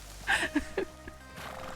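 A horse at a stable in RedM gives a short, close whinny with a few clip-clops, then quiet ambience follows.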